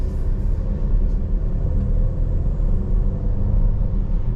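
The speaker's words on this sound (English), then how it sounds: "the Volvos always seem to give up a really good turbo noise" A 2023 Volvo XC60 B5 Plus turbo engine drones while driving, heard from inside as a steady, loud low rumble with road noise and no talking.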